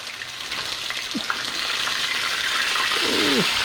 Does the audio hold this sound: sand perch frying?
yes